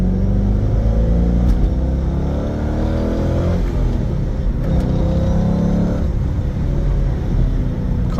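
Engine of a 2003 Chevrolet Corvette Z06 hardtop, heard from inside the car, pulling steadily with rising and falling engine tones as it shifts gears, continuous and loud with no talk.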